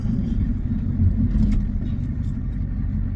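A rare one-year-only Ford F-250 diesel truck pulling away in first gear, its engine giving a steady, close, low rumble with no sharp revving and no voices.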